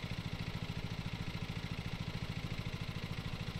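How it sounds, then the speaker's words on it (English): Lawn mower engine from the video game Lawn Mowing Simulator, heard as a steady, even, rapidly pulsing low engine drone at moderate level throughout, with no talking. "So hold A to start the engine."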